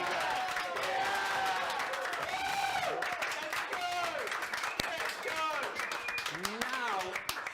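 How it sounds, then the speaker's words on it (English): An audience at a 2023 leadership race results show applauds and cheers, with a dense patter of clapping and whoops from the crowd layered under continuous talk. "let's give Len another round of applause"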